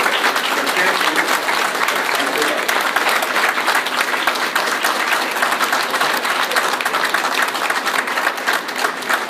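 A room of attendees at a school board meeting gives a big round of applause for state champions, with continuous, even clapping for over nine seconds.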